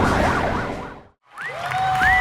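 A cartoon ambulance siren in a LEGO animation wails in a rapid warbling pattern, cuts out briefly, then returns as a rising, steadier electronic tone, loud and close with no talk over it.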